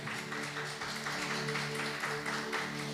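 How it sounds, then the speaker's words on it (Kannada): A church congregation claps for Jesus during a worship service, with dense steady applause filling the room over sustained music. "ನಂಬುವರೊಂದು ಸಾರಿ ಗಟ್ಟಿಯಾಗಿ ಯೇಸುವಿಗೆ ಚಪ್ಪಾಳೆ ತಟ್ಟೋಣ"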